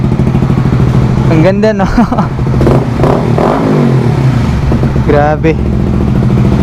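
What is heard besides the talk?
Honda CBR150R v3 revving with Akrapovic muffler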